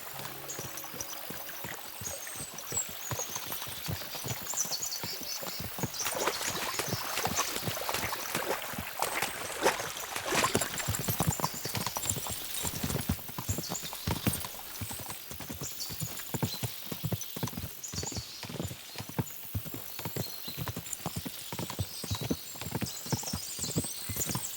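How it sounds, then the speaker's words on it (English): Horses gallop across a stream in the medieval video game Kingdom Come Deliverance II, with steady, loud clip-clop hoofbeats in a continuous running rhythm, water splashing and an occasional whinny. "we'll give the horses a gallop again."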